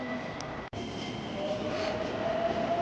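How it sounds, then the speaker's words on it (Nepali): A train sits at a station in Hiroshima, giving off a continuous rumbling hum with a faint high whine. One brief break in the sound is followed by a steady, close rolling noise. "यहाँदेखि एउटा ट्रेन चढेर 330 को टिकट काटेर एउटा ट्रेन चढेर जाने हो।"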